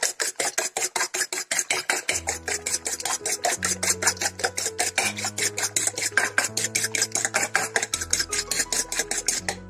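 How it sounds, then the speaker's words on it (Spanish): Eggs whisked in a bowl for a tuna quiche, a fast steady rhythm of clicking, scraping strokes throughout, with music playing underneath from about two seconds on. "Batimos los huevos."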